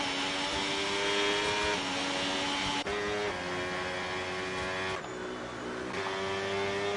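A race car lapping the Zandvoort circuit, its engine a steady, loud whine that holds pitch, then drops briefly at each of a couple of gear changes.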